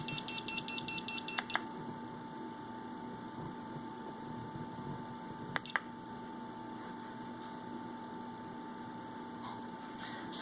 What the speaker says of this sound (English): crank failure alarm.